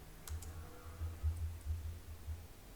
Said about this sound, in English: I'll quickly type in